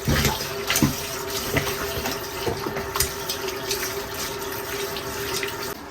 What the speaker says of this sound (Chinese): 抓好倒到池子里，用温水给它好好的洗一下来